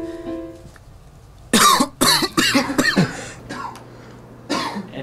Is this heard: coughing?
yes